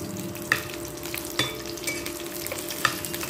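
Garlic and two chopped green chillies sizzle steadily in a hot pan, a continuous frying hiss broken by a few sharp pops and stirring clatters.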